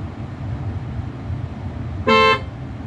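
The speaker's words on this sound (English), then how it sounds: "There's a honk. I'll test the honk." A single short Tesla Model 3 horn honk, loud and close, sounding for about a third of a second over a steady background rumble.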